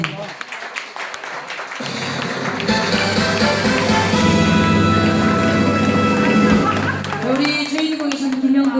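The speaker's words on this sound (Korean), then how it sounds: "우리 가족분들이 나오셨는데 다시 한번 힘찬 박수 한번 보내주세요" Guests applaud a family's entrance at a seventieth-birthday banquet in a Suwon hotel ballroom; sustained, dense clapping swells and fills the room, with music and voices mixed in.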